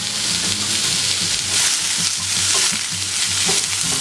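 Onions fry and get stirred in a pan with mushrooms and olive oil, giving a loud, steady sizzle with soft scraping stirs throughout and no talking.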